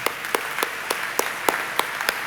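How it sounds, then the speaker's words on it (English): Audience applause at a leadership conference, a sparse round of claps with several sharp individual hits standing out over a soft wash of clapping, fairly quiet and steady. "a round of applause,"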